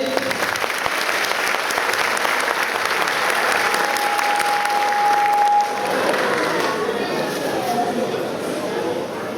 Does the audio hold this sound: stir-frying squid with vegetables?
no